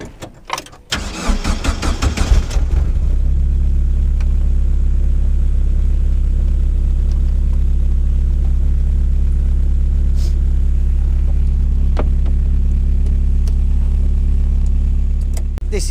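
An MK Indy RX-5 160 kit car fires up with a brief cranking burst, then its engine settles into a loud, steady, close rumble that holds for the rest of the stretch, with no talking over it.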